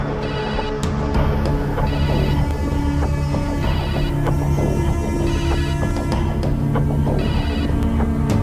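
A landline telephone rings in repeated, evenly spaced bursts of an electronic trill over a steady low hum, loud and close, with no one speaking.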